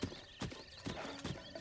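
Hooves of a horse in a video game clip-clop in a steady walking rhythm, four evenly spaced, fairly faint strikes close by.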